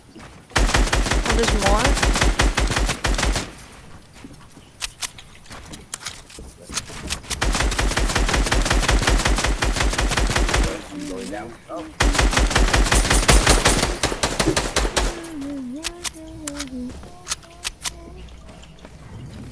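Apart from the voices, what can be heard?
gunfire from the video game Fortnite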